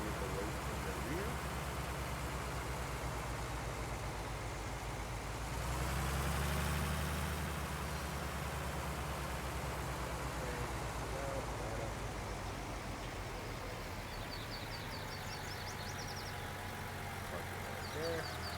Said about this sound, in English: We're actually going to back the tractor up so that way we've got the majority of the weight in the rear.